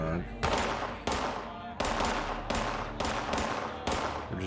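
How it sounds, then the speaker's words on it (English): Gunfire rings out in the video game Fallout 76: five or six loud, close shots land at roughly even intervals, each with a sharp crack and a rolling decay. "That's an awful lot of shooting before they're shooting possums."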